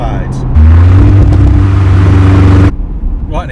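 A Honda Integra Type R cruising in top gear at just over 4,000 RPM, a loud steady engine drone heard from inside the cabin, cutting in abruptly and dropping away near the end.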